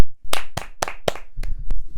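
A short burst of hand clapping, several sharp claps in an uneven rhythm, close and dry, with no voices.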